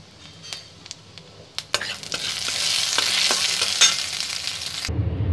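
Whole cumin seeds dropped into hot mustard oil, first a few light taps and clinks, then a loud, close, steady sizzle that holds for several seconds before cutting off abruptly.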